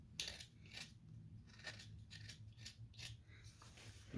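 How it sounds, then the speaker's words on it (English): A knife carves wood on a hand-carved dragon spoon, giving a quiet, close series of short, crisp slicing and scraping cuts in an uneven rhythm. "I'm going to reach in here with a knife and I'm going to cut this"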